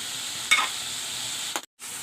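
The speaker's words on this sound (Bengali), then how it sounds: "সরিষা দিয়ে একটু কষা নিলাম।" Masala with mustard paste sautés in a pan, a soft steady sizzle broken by two brief stirring scrapes and a short dropout, close and quiet with no talk.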